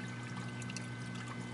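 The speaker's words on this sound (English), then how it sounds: "use a turkey baster and pull some tank water and squirt them in there" Aquarium tank water squirted from a turkey baster, a brief, steady pouring stream over a low hum.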